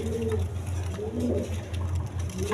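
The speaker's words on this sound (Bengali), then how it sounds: "আমেরিকান ফ্যান্টাল লক্ষা কবুতর আছে" American fantail lacquer pigeons coo softly at a pigeon farm, low repeated throaty coos in a steady rhythm, fairly quiet and close, with faint background noise.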